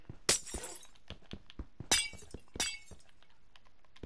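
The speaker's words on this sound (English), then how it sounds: "It's probably glass breaking." Glass blocks shatter in Minecraft on PS4, three sharp, bright breaking crashes spaced apart, with lighter clinks and thuds between them.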